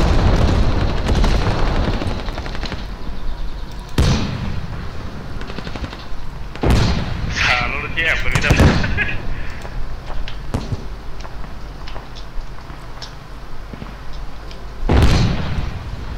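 Heavy battle noise in the game Squad with bursts of gunfire and several loud booming blasts, one big tank explosion partway through, all close and loud.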